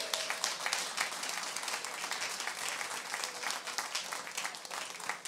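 A church congregation applauds during a French-language sermon, sustained crisp clapping from many hands, busy and even, continuing for several seconds without speech.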